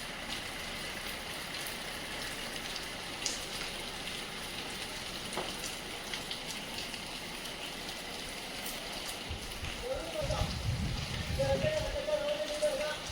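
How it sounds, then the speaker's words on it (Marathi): Monsoon rain falls steadily outdoors in a village, a soft continuous hiss of drops, with a brief louder splash and faint background sounds near the end. "बाहेरचं वातावरण असा पाऊस चालू आहे आमच्याकडे"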